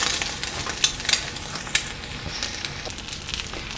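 Egg-dipped French toast roll-ups with strawberry and Nutella sizzle in a hot pan, a constant crackling fry broken by a few light clicks and taps from the pan.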